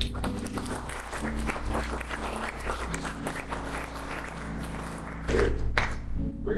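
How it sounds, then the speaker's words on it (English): A church congregation claps during a worship service, a moderate, uneven patter of hands that holds steady for several seconds, with a few louder thumps near the end. "Give Lord a hand clap."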